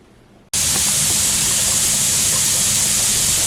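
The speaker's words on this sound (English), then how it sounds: "there's lots of steam coming out" Steam venting from a pressure canner while beans cook, a sudden loud, steady hiss that starts abruptly after a quiet moment and then roars on continuously, close and unbroken.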